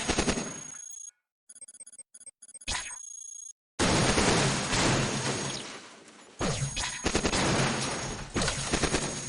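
Bursts of energy-weapon fire at a sentry robot in the sci-fi roguelike Cogmind, with rapid electronic zaps and chattering volleys, loud and close, separated by short gaps of silence.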